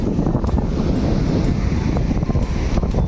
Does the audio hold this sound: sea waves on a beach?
yes